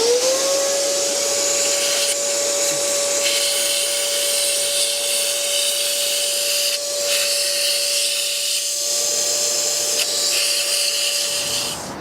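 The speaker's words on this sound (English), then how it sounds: "Let's just give the hole a good vacuum out." A vacuum cleaner sucks debris out of a drilled glow plug hole in an engine, a loud, steady, close whine with a constant high tone that runs nearly unbroken before cutting off at the end.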